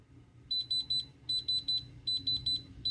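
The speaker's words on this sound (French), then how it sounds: "Quand il fait bip bip bip le son, là, ça veut pas dire que c'est un diamant" A diamond tester gives off bright electronic beeps while it probes a raw precious stone, in quick runs of three with short gaps between. A low background hum runs underneath.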